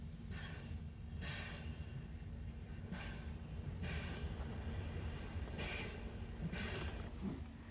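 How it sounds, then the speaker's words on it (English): A steam-hauled train on the Isle of Wight railway, running toward Ryde St John's Road Station: a steady, heavy rumble with irregular, breathy exhaust puffs rising over it, close and continuous. "We will join the train for the run to Ryde St John's Road Station."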